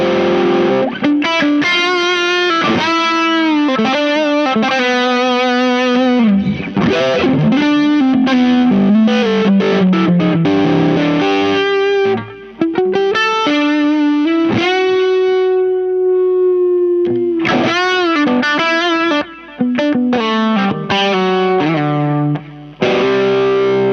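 An electric guitar runs through a PastFX 18V Power Booster pedal set with echo and distortion, giving gritty sustained notes and repeating trails that play continuously with brief dropouts.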